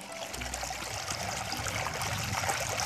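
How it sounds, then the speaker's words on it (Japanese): Water flowing steadily beside a rice paddy on a countryside walk, a continuous close trickling and rushing stream with no voices. "いいね、これは水音。"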